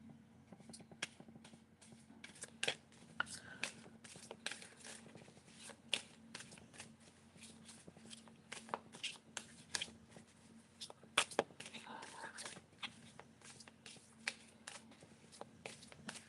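Tarot cards being shuffled by hand, a close, quiet stream of rapid papery riffles and flicks with sharp taps scattered throughout, steady and continuous, no talking.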